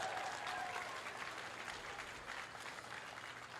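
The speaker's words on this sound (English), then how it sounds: "Give yourselves a round of applause." Rally crowd in Madison, Wisconsin applauding steadily, a dense wash of clapping at a fairly even level from start to finish with a few faint voices mixed in.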